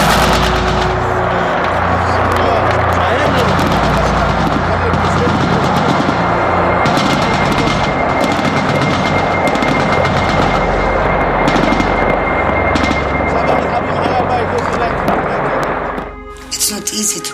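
Sustained bursts of heavy armor-piercing gunfire crackle densely and loudly, near-continuous rapid shots with sharp reports, tapering abruptly at the end.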